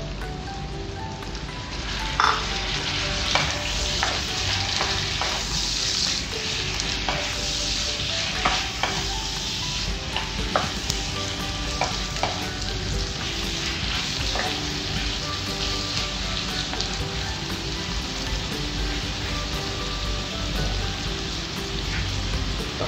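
Chopped tomatoes sautéing in a pan after softened onions and meat for a mung bean coconut stew, a loud steady sizzle with frequent clinks and scrapes of a stirring utensil, close up and without talk.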